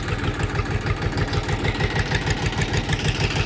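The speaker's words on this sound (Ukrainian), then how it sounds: "Не каптить, не курить. Працює двигун суперово." A tractor engine runs at idle up close, a loud, even, rapidly pulsing diesel chug with no other sounds.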